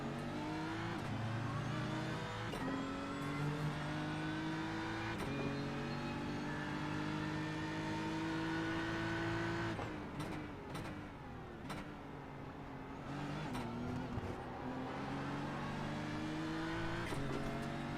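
GT3 race cars in a sim racing game howl through a Zolder league round, engines revving up and down through gear changes in a continuous, loud stream of engine noise.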